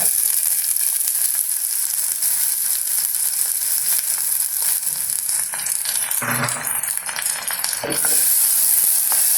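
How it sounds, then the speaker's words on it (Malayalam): Chopped banana stem goes into hot oil for a pickle, setting off a loud, dense hiss of frying that crackles and shifts briefly as the pieces are added, then carries on steadily. "ഇനി ഇതിലേക്ക് നമുക്ക് നമ്മൾ അരിഞ്ഞ് വെച്ചിരുന്ന ആ പിണ്ടി അത് ഇട്ട് കൊടുക്കുകയാണ്"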